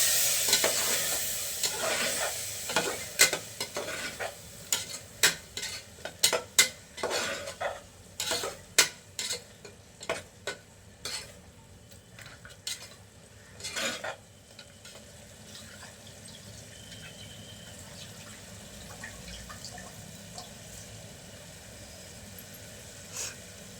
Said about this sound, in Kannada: ಈಗೆಲ್ಲ ಮಿಕ್ಸ್ ಮಾಡ್ಕೊಂಡು ಚೆನ್ನಾಗಿ